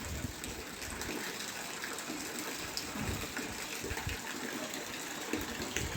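Floodwater from heavy rain in Jamnagar rushing steadily through a flooded home and street, a continuous broad gushing wash with no pauses.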